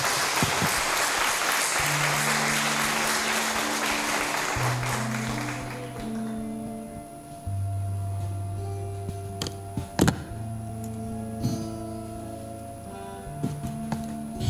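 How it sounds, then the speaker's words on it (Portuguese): A church congregation claps for the Lord in a short burst of applause that dies away after about six seconds, leaving organ or keyboard tones with occasional taps and knocks. "você pode aplaudir ao Senhor?"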